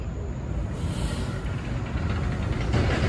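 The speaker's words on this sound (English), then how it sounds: "Because you can hear the streets behind me." Steady traffic rumble from streets behind a park, a broad continuous roar with low engine hum and hiss, fairly close and slowly swelling louder toward the end, with no talk over it.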